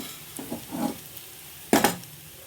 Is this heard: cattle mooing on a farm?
no